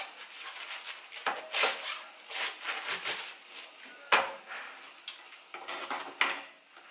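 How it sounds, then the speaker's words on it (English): A knife cuts through a head of cabbage on a cutting board in a kitchen, giving quiet, close crunching and slicing strokes with soft thumps against the board, spaced irregularly with no talking. "what I'm gonna do right now while the water is boiling is just cut the cabbage"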